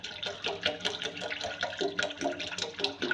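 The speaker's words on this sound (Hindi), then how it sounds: "ये बाकी का पानी भी हम इसके अंदर ऐड कर देंगे" Leftover water is poured into a cooking pot for almond sharbat, a steady close splashing and trickling stream with no talking over it.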